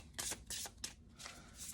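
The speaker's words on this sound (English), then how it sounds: "So just tune in while I shuffle here." Tarot cards shuffled by hand close up, a quiet series of soft riffling bursts in an uneven rhythm, with short pauses between them and no talking.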